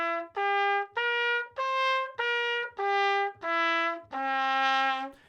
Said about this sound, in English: And you build an arpeggio starting on D.